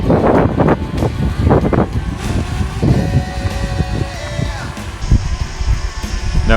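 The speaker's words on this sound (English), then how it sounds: "There's the wind picking up." Wind picking up outdoors while a DJI Mini 2 drone is flown: loud, steady gusty rumble buffeting the microphone, with roaring low-end noise throughout and a faint whine on top.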